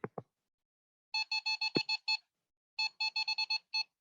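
Ghost meter held near a phone, giving two short clicks then two quick bursts of sharp electronic beeps in rapid runs of about six, loud and close with silence between.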